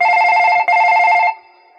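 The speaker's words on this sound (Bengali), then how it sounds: "আবার ফোন ঢুকছে রে।" A telephone rings with a loud, close electronic trill that sounds in two bursts separated by a brief gap, then cuts off, with no one talking.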